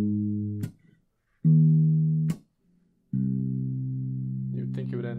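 A guitar plays a bass line in three sustained phrases, low and fairly quiet, with short gaps between them and a few stray higher notes near the end.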